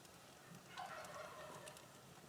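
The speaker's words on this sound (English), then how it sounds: "you can hear my turkeys in the background" Turkeys gobble in the distance at a backyard barbecue where ribs go onto a cherry-wood smoker, one short warbling burst rising faintly over outdoor hush.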